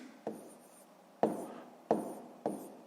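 A pen writes an equation by hand during a sixth-grade maths exercise, making four short scratchy strokes spaced about a second apart, close and fairly quiet, with no voices.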